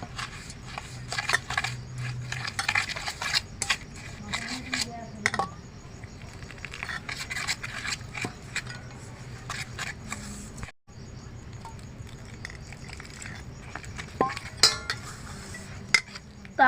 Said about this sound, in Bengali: এখন আমি এই আমল দুধটা এটার মধ্যে অল্প অল্প করে মেখে নেব